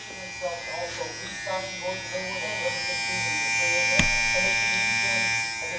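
A matte black Babyliss Black FX One hair clipper runs with a steady high-pitched electric buzz, close and even, with a few short handling clicks and bumps early on and one sharp knock near the middle.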